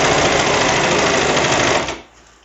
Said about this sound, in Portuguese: Aí eu venho aqui no overlock e eu consigo tirar essa diferença.